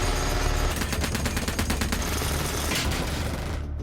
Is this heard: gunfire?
yes